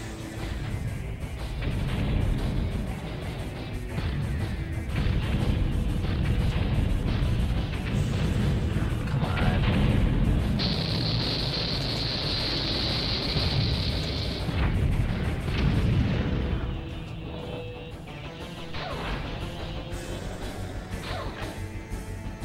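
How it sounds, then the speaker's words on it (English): Rapid enemy gunfire and explosions from the tank combat game Battletanx Global Assault, a dense, continuous barrage of booms and blasts throughout, loud and sustained with a high whine midway, no talking. "Something's shooting at me."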